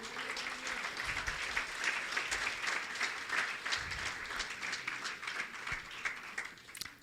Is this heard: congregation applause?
yes